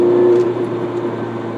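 Ferrari engine blipped while driving, a steady loud engine drone with a brief rise in the first half second, then settling under a rough road rumble, no talk.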